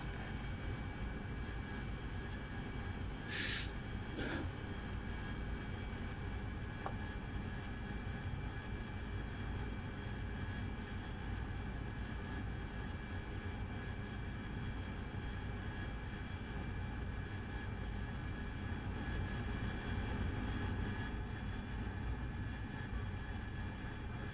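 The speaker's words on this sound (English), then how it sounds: "Okay, I'll taxi to the apron." A Harrier jet taxis toward the apron at night, its engine a steady loud whining drone with constant low rumble and high tonal hum, unbroken for the whole stretch, with a couple of brief clicks near the start.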